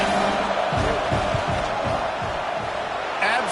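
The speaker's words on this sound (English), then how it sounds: "This crowd trying to do its part to get inside the kicker's head." A football stadium crowd roars steadily before a field-goal attempt, a dense wash of cheering and shouting from thousands of fans with whoops rising above it throughout.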